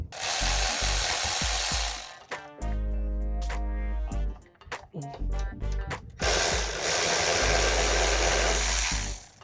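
A ratchet wrench backs off 10mm and 12mm bolts on a Toyota Tacoma while an ABS shield is being installed. Loud, close ratcheting comes in dense bursts, separated by a few sharp clicks and short pauses.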